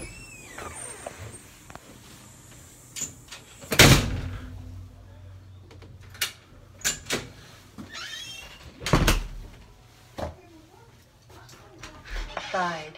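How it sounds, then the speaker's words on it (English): A side door opens and shuts with a few sharp thumps and clunks, heard close among other handling noises while a person talks. "Side door. I bet."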